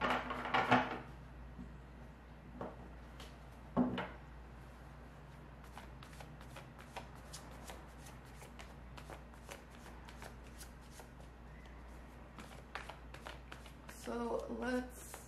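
A deck of tarot cards shuffled by hand, with soft riffling and sliding bursts, a few louder snaps at the start and near the end, close up and alone.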